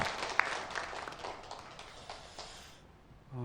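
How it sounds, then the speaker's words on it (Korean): A church congregation claps during a Sunday worship service, the applause faint and thinning out before it fades, followed by a brief low tone at the very end. "큰 박수로 축복하겠습니다"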